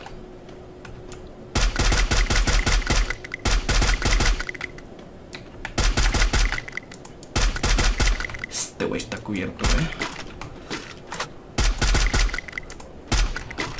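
Bursts of rapid gunfire in Free Fire come in repeated volleys, loud and close, with someone talking over and between them.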